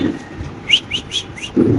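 Pigeons at a pigeon market give a brief run of four short, high, whistly calls in quick succession, fairly close, with a soft rustle before and after.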